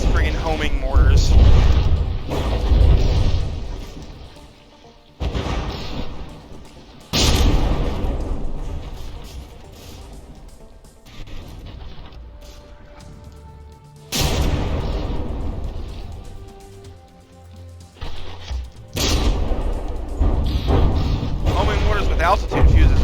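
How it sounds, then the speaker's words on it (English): Homing mortars explode in From the Depths during a battleship tournament fight, a series of heavy booms and rumbling blasts, several loud bursts separated by quieter stretches, with someone talking over them. "It's friggin' homing mortars."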